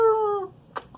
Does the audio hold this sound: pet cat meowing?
yes